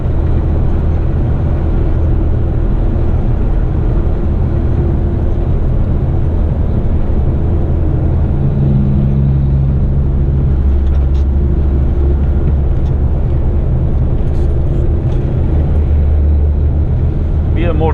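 Steady, loud road and engine drone heard from inside the cab of a heavy eight-wheeler twin-steer 30-ton truck driving toward a city, with a continuous low rumble and faint passing traffic noise over about eighteen seconds.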